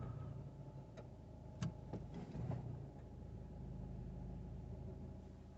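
A Ford Kuga engine, fitted with a DPF pressure sensor and showing an intermittent fault, runs at a low, steady idle rumble, with a few faint ticks and clicks partway through; nearby and quiet, with no talking.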